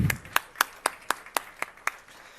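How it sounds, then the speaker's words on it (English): A few audience members at a business summit clap sparsely, with about eight distinct, evenly spaced claps sounding fairly quiet in a large hall. "And now, huge round of applause for Dr."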